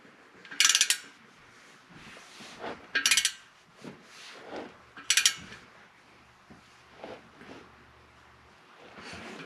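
A ratchet torques the cylinder head bolts on a Yamaha Blaster engine down to 15 pounds, giving three sharp bursts of metallic clicking with softer clinks and handling noises between them, close and alone.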